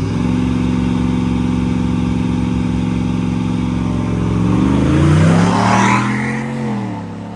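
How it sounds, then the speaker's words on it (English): Several cars race past, including a Fox body Mustang, their engines droning steadily with harmonic whine before one swells loudly nearby around mid-clip and then fades as it pulls away. "Fox body came around him."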